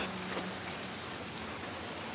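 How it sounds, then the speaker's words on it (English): Steady rain hiss in The Last of Us Part I remake, a dense even wash of falling drops with no breaks, fairly quiet and continuous throughout. "Yeah, it's raining, wet, our clothes is wet."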